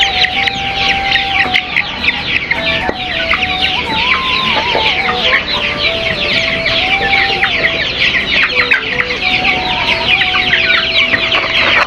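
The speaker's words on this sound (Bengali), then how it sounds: "আমাদের বড় মুরগিগুলো কী করছে সেটাও দেখব" Many chickens cluck and chatter continuously, close and loud, with a rooster-like call rising now and then over the busy flock.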